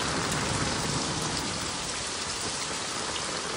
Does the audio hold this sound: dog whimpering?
no